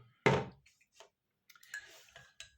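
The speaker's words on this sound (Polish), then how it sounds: "I na sam koniec biorę łyżeczkę miodu." A teaspoon clatters sharply once against a honey jar or dish in a home kitchen, followed by a few faint scattered clinks and taps.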